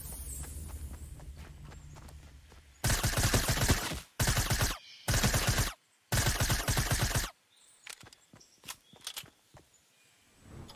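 SMG gunfire in a video game, four dense sustained bursts of rapid automatic fire in close succession, loud and near, followed by scattered lighter in-game footsteps and clicks.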